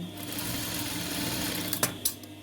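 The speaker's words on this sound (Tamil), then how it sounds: "இந்த பச்சை கலர் துணி மேலே மட்டும்தான் நம்ம தையல் போட போகிறோம்" A sewing machine runs steadily at close range, stitching piping onto green fabric for a sleeve design, a continuous even whir that ends with a couple of brief clacks.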